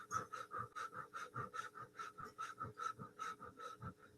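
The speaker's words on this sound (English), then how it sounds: "we're going to rapidly inhale and exhale" Rapid, forceful breath-of-fire exhalations through the mouth, a steady train of about ten short puffs per few seconds, close and clear with no talking.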